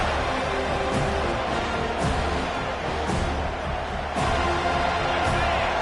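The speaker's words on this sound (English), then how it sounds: "This crowd, full throat, splitting the eardrums" A stadium crowd roars in the Madden football video game, a broad continuous din held at a high level with slight swells, heard alone without talk.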